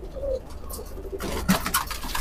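Rampuri pigeons with a teddy pigeon hen coo softly from a loft, several low murmuring calls spread across a couple of seconds over faint background noise.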